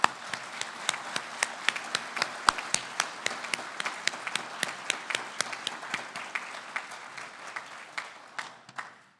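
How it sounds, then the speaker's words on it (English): Applause for three inductees at the Honors On The River 2019 ceremony: sharp, fairly sparse claps from a modest audience ring out at an even pace for about nine seconds, spacing wider near the end before stopping. "Could I have a round of applause for all three of our inductees?"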